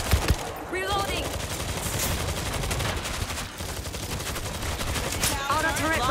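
An automated turret in World War Z sprays rapid, continuous gunfire, a steady rattling stream of shots lasting the whole stretch, with other guns and occasional voices mixed in.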